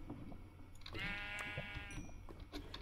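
Sheep bleat in the Minecraft video game, one drawn-out wavering bleat standing out clearly over a busy bed of game sounds and soft thumps.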